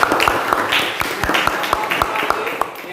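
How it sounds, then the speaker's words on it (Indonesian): A classroom of students claps in a quick, regular rhythm, with sharp close claps repeating steadily over a bed of lighter clapping and voices. "Kasih Sodienta tepuk tangan untuk"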